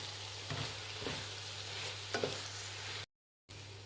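Cabbage rice being stirred in a hot pan, with a soft steady sizzle and a few scraping strokes of the spoon, close and alone with no talking.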